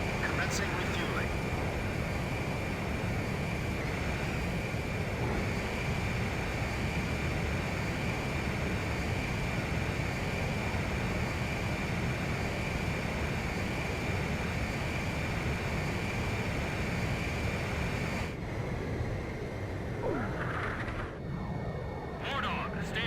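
Jet aircraft engines drone steadily during aerial refueling in the Ace Combat 5 video game, a constant loud roar with a faint high whine, while radio voices talk over it toward the end.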